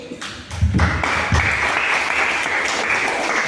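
Loud, steady applause fills the hall for a contestant at an Easter church competition, dense clapping from a large audience that holds at full strength throughout.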